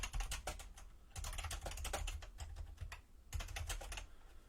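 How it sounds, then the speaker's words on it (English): Rapid typing on a computer keyboard during a gaming session, with dense clattering keystrokes in bursts separated by short pauses, close and fairly quiet with no talking. "I can't even see what I'm typing right now."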